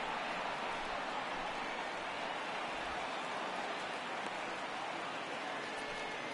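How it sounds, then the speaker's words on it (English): Steady rain pouring down on a baseball field in the video game MLB The Show 19, a continuous even hiss that holds throughout with no talk over it. "we've mentioned the conditions aren't ideal with the rain coming down"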